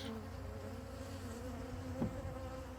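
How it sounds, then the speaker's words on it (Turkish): Honey bees buzz continuously at close range at a hive during an inspection, a steady droning hum with one brief louder pass. "Arkadaşlar arılardan kesinlikle korkmayın."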